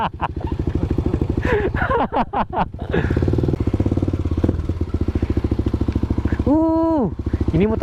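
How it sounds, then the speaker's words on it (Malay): A drag motorcycle engine runs close by with a steady pulsing idle, revving up briefly near the end while a voice talks over it. "Ini motor drag ni."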